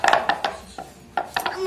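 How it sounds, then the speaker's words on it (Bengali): Knife chopping on a board in a home kitchen during cooking, a handful of sharp clacking strikes in uneven rhythm, close and moderately loud with no talk. "কাট কাটি করছে"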